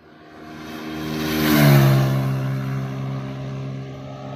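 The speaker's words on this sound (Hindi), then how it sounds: "साउंड बहुत प्यारा दे रही बाइक" A motorcycle engine revs during a highway drag race involving a Yamaha MT15, Yamaha FZ25 and TVS Apache RTR 160 4V. It approaches and swells to a loud, rising whine as it passes, then eases off while still droning.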